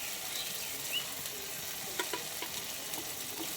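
Ground coriander, cumin, chili, Kashmiri chili and turmeric with salt fry in a pan as a dense, loud, even hiss, with a few light stirring clicks scattered through.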